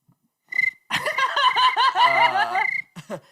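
A person imitates a cricket chirping with the voice, giving a high, trilling run of squeaky vocal chirps that swell loudly and then break into brief laughing tails, close to the microphone with no other sound underneath.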